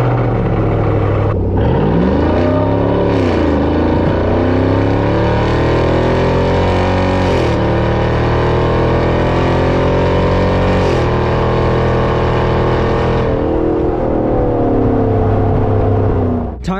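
A Chevrolet Silverado ZR2 fitted with an AUXBEAM off-road exhaust, at a Jeep rock crawl event, revs repeatedly. Loud, close engine roars rise and fall across the whole stretch, with a deep, throaty exhaust note.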